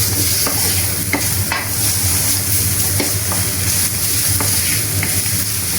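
Mushroom sauce with parsley and garlic sizzling in a frying pan, a constant close crackling fry with occasional stirring scrapes and no voices.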